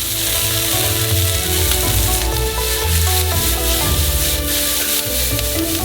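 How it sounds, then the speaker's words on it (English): Vegetables hit a pan on maximum heat and fry in oil, giving a loud, steady, dense sizzle with a few clinks of stirring throughout, and no voices. "Now add in all vegetables to it. Fry them for a total of only 2 minutes."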